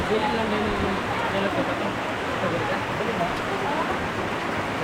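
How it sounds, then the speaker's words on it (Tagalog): Steady rain pours down during an all-day downpour in a rural area, a dense continuous hiss with faint voices in the background. "Isang buong araw kasi yung ulan daw dito, no, hanggang gabi daw po."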